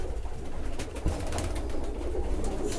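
Soft, low cooing of pigeons feeding on grain and feed cubes, close and continuous, with occasional pecking and shuffling in the background.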